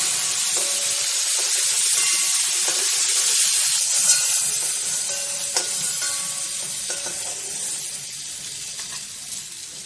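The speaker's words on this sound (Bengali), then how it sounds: "হালকা করে ভেজে নিয়েছি, খুব বেশি ভাজলে ভালো লাগবে না, তার জন্য আমি হালকা করে ভেজে তুলে নেব।" Chicken pieces for a chicken curry fry lightly in hot oil, a steady close sizzle with scattered crackles and pops throughout, with no talking.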